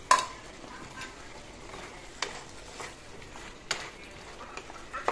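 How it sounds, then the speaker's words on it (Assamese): Chicken pieces frying in a pan for a sesame-seed chicken curry, a soft, steady sizzle broken by several sharp scrapes and clinks of a spatula stirring the meat, heard close and fairly quiet. "ছেকেণ্ডমান এনেকৈ ভাজিলোঁ মাংসখিনি"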